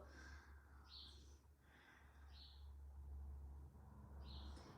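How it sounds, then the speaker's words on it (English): Recently fed birds chirp in short bright bursts several times over a low steady hum, fairly faint and in the background. "I'm sorry if you can hear the birds a lot, I just fed them"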